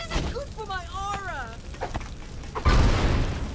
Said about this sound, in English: I can shoot fireballs while on fire!